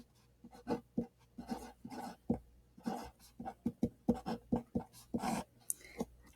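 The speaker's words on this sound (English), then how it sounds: "I'm going to write that over here." Pen or pencil writing out a division math problem by hand, a series of close, quiet scratchy strokes and taps in an irregular rhythm with short pauses between marks.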